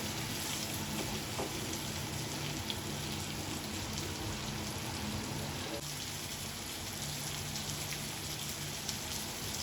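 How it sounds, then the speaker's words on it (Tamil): Fish pieces frying in oil on a tawa after being turned over; an even, hissing sizzle with a faint crackle, continuous and moderately quiet throughout. "பாருங்க, ஃபிஷ் நல்லா ஃப்ரை ஆகிட்டு."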